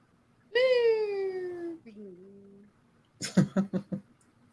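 A cat gives a long, clear meow that falls in pitch, then a softer, shorter mew. A burst of human speech follows.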